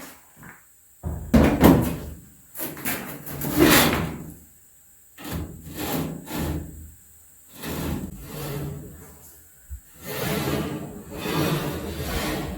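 An old wooden drawer in an abandoned house is pulled open with a series of loud, close scraping and rubbing bursts, interrupted by brief pauses and a sharp knock near the end.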